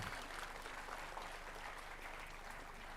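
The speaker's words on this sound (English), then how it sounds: "Can we have a huge round of applause for all the year toppers?" Audience at a law college annual day applauds the year toppers, a steady, faint, distant wash of clapping held evenly for about three seconds with no voices over it.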